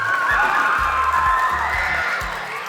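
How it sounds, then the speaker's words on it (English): A crowd cheers and whoops loudly for the Boys and Girls Club at a Raiders Thanksgiving giveback event, with children shouting amid a dense, sustained roar of voices. "Can we give the Boys and Girls Club a round of applause,"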